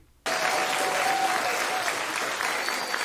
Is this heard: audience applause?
yes